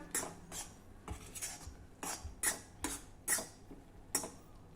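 A spoon scrapes and knocks against a metal pot in a series of sharp, irregular strokes while rice flour is stirred into boiling water, close and fairly quiet, with no voices.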